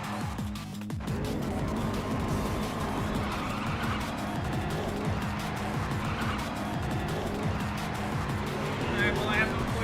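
Race car in a racing video game limping toward the finish line on a ruined, nearly gone tire, engine droning steadily with scraping, skidding tire noise throughout, under a voice talking over it.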